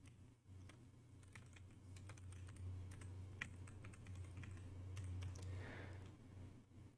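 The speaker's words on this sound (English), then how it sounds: "Typing is very hard" Quiet, scattered clicks of a computer keyboard being typed on at an uneven pace over a steady low hum, with no voices.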